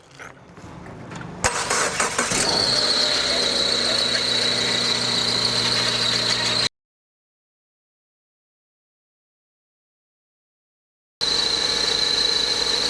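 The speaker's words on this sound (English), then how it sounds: "All right, Earl, start your engines." A 2017 Subaru Outback engine, low on CVT transmission fluid, cranks and catches, then runs with a high squealing whine before cutting to silence and returning briefly.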